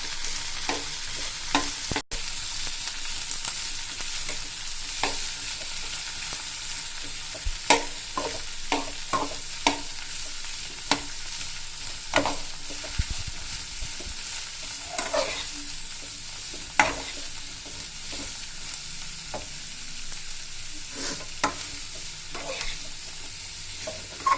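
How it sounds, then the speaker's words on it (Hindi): Chilli mushroom frying over a low flame, a steady broadband sizzle with repeated scraping stir strokes and small clicks of a spatula against the pan, close and continuous, no voices. "1 या 2 मिनट के लिए फ्राई करूंगी फ्रेंड्स। मैंने फ्लेम को स्लो कर दिया है।"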